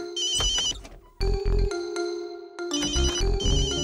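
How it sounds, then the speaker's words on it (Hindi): A mobile phone ringtone rings loudly in repeated melodic bursts, stopping briefly twice before starting again, with no voices over it. "जूजू प्लीज फोन उठाओ"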